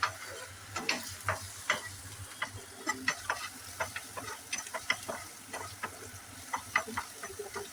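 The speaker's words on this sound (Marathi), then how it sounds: "आपला कांदा आता व्यवस्थित फ्राय झाला आहे।" Chopped onions frying with a little salt in a pan for veg Schezwan fried rice, a soft sizzle broken by frequent sharp scrapes and taps of a spoon stirring, fairly quiet and close.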